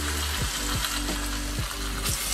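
Tomato going into a pan of frying pisto vegetables gives a loud, steady sizzle, with several sharp scraping stirs at a regular pace and no voices.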